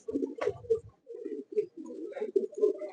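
Pigeons coo in a loft, a few close, soft rolling calls repeating in short phrases with brief pauses between, alone without talk.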